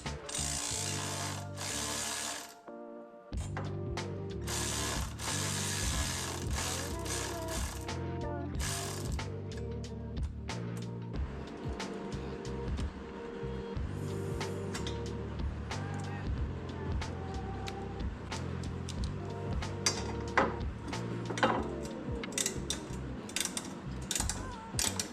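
A ratchet backs out a 1/4 inch Allen bolt from a motorcycle crash bar, making a long, steady close run of rapid clicking pawl sounds and metallic ticks that carries on without a break.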